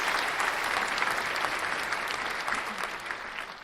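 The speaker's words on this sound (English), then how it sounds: "can I get the sound effect, a round of applause?" Steady round of applause requested as a sound effect during a sports talk show, dense clapping filling the whole stretch at even loudness with no voices over it.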